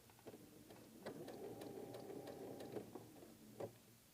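Domestic sewing machine stitching a freeform quilt block slowly, a steady mechanical whirr running for a few seconds with soft clicks at start and finish, taking a few stitches at a time.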